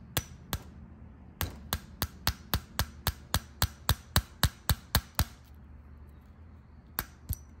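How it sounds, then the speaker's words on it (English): Sharp, crisp hammer strikes seating a cap during a Shimano XT 8120 brake upgrade on a Trek Powerfly 4 e-bike, in a quick, even series: a couple of early hits, then a long run of taps, a pause, and two final blows. "I'm gonna attempt to hold it and use my hammer here."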